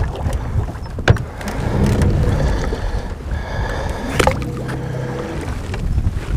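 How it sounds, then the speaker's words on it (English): Strong wind gusting over a small fishing boat drifting out in the middle of the narrows, a steady loud rumble with buffeting and water slapping, plus a couple of sharp knocks. "Oh boy, that's a strong wind."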